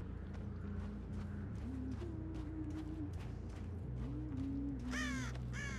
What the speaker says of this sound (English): There's a bunch of bird noises going on.